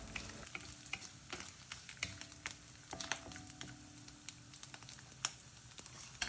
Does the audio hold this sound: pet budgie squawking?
no